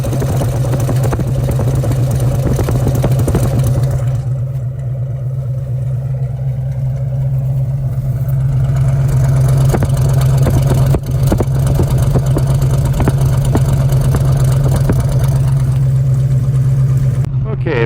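A 1973 Ford Mustang Mach 1 idles, recorded close at its exhaust pipes, giving a steady, loud low rumble with a strong droning hum that continues unbroken for the full length.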